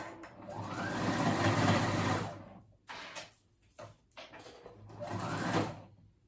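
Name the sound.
sewing machine sewing ruffles onto knit fabric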